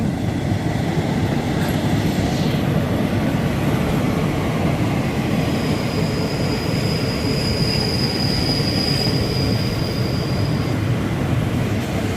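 The Bangkok–Hua Hin passenger train, number 4301, rolls past close by with a loud continuous rumble of wheels on rails and a thin, sustained wheel squeal partway through.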